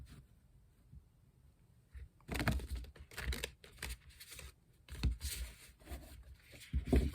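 Tarot cards riffle and slap together in several shuffling bursts after a quiet start, papery and close, with short pauses between rounds.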